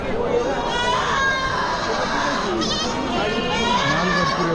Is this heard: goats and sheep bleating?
yes